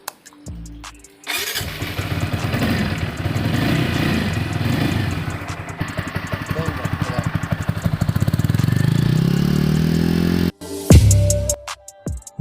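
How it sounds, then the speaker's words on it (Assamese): A TVS Apache RTR 200 4V motorcycle cranks and fires up close by, then settles into a loud, steady running engine for several seconds before shutting off abruptly, followed by a brief clunk. "এতিয়া গাড়ীখন আমি ষ্টাৰ্ট কৰিম"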